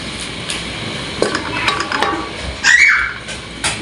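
Chopped onion and green chili are stirred in a pan, with a few scraping and clinking strokes of a spoon against the metal and a faint sizzle underneath, close and fairly quiet.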